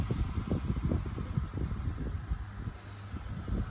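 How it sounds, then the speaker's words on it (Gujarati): An air conditioner blows a steady, close rush of air with soft rustling flutter and no talk over it. "અમારી આ એસીથી અમે મસ્ત પવન ખાઈ રહ્યા છીએ"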